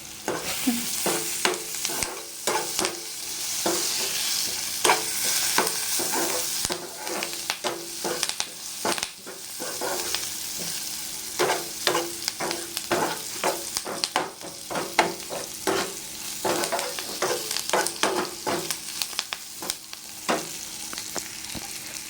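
Fresh curry leaves frying in a small amount of oil, a bright sizzle crackling throughout with frequent scraping and clinking as a spoon stirs the pan, close-up and with no talk.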